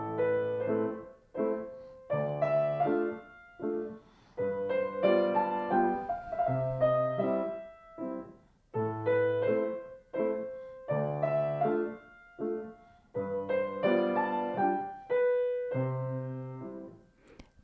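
Piano plays a passage from a Chopin waltz with the sustain pedal pressed and released, a steady pattern of bass notes and chords in regular phrases, notes ringing together then cut off, solo without voices.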